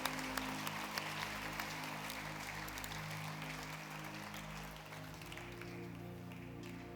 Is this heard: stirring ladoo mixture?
no